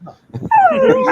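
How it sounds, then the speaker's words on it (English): A dog whines close by and loudly, a single drawn-out whimper that rises and then slides down in pitch after some soft shuffling. "If you hear the dog whining in the background"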